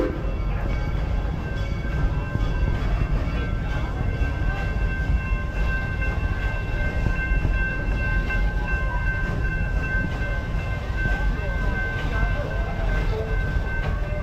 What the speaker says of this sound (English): as we are slowly pulling into the train station